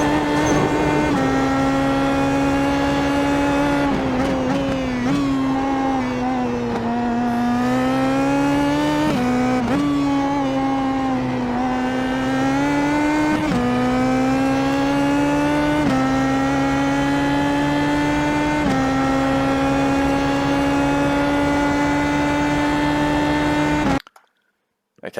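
Race car at full speed through corners at Sebring International, a loud continuous engine drone with rising and falling pitch as it accelerates and lifts, steady and close throughout, cutting off abruptly at the end.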